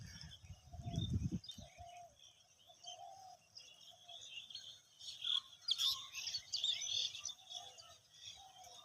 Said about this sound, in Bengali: ঘুঘু পাখির ডাক।